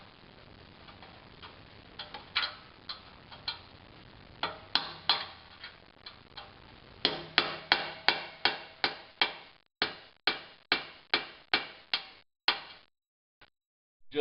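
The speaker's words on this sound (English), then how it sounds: "I'll give it a couple hits of the chisel." Repeated sharp metallic strikes of a hammer on a chisel splitting a seized nut to free a sensor, a long run of close, evenly paced hits that quicken and cluster toward the end before stopping.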